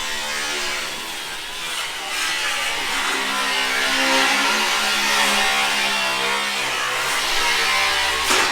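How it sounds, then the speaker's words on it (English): Drilling from the installation of two new paint booths in a repair shop fills the space, a steady loud mechanical whine with harmonic buzz running continuously, swelling slightly midway, with no talk. "That's what the drilling noise is."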